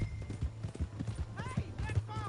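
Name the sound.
horse hooves in video game Red Dead Redemption 2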